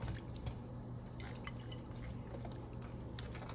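Soy sauce poured from a bottle while cooking pepper steak with broccoli, a thin trickle with scattered dripping splashes over a low kitchen hum, close and quiet.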